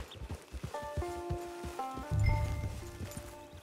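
Horse hooves in the video game Red Dead Redemption 2 Online clop in a steady walking rhythm, close and moderately loud, while soft musical tones play over them.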